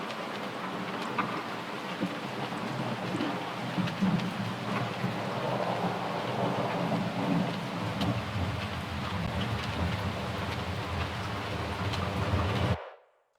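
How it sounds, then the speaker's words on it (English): A storm sound effect layered into a dubstep track in Ableton: steady dense rain hiss with low rumbling thunder beneath, continuous and even for about thirteen seconds before cutting off abruptly. "I've got this storm sound, which is okay."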